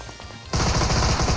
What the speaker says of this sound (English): BH Bang is getting shot